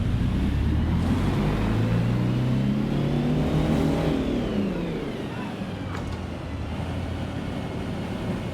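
A car cruising on auto drive in Watch Dogs Legion, its engine note rising in pitch and then easing off as it passes through traffic, with a voice speaking over it.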